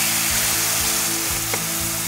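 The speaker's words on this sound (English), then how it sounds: "While you hear my masala sizzle" Masala spices for a banana blossom and shrimp dish sizzle loudly in hot oil, a close, steady crackling hiss with faint stirring scrapes and no talk.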